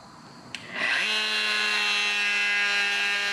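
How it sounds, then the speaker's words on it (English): A wooden boat builder's handheld wood router starts with a click and quickly spins up into a loud, steady high-pitched whine that holds close and constant. "I hate routers."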